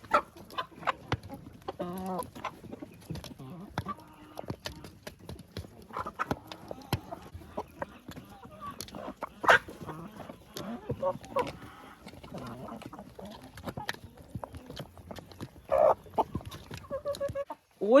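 Chickens cluck and pick around a coop, with scattered clucks, short calls and pattering scratches near and far across a long stretch, and a voice briefly under them.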